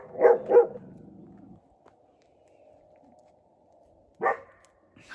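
A dog at a forest campsite gives two quick deep barks close by, then goes quiet for a few seconds before one more bark.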